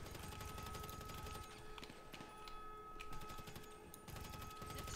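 Rapid bursts of gunfire from the video game GTA 5, with dense repeated shots and clicks over a steady background throughout, fairly quiet overall.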